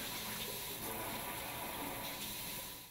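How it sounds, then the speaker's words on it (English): Water runs steadily from the spray wand of a pull-down kitchen faucet, a continuous hissing spray with no voices, holding even throughout. "Test the spray and stream modes of the wand."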